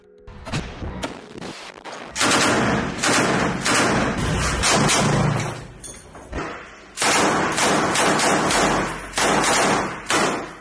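Machine gun fire in combat in Rafah: long, loud, sustained bursts of rapid shots with a few short pauses, and sharp single cracks at the start.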